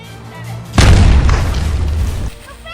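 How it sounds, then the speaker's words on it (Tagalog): A grenade explosion goes off as one sudden, loud, close boom, followed by a rumbling tail that fades after about a second and a half. "Granada ni."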